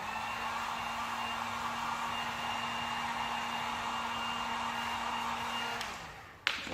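A heat gun warming vinyl wrap on a car door handle blows a steady, close whooshing hiss with a faint tonal hum, running evenly for nearly six seconds before cutting off with a click.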